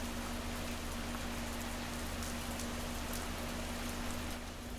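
Steady rain pours down in the video game Schedule I, a continuous even hiss of falling drops with a faint low hum underneath, unbroken throughout.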